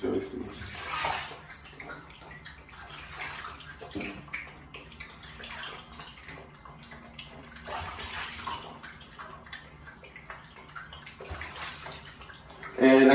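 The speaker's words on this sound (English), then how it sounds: "Let's put a little bit of water on her." Water runs and splashes over a dog during a lukewarm bath in a tub, a continuous close pouring and sloshing, with voices at times.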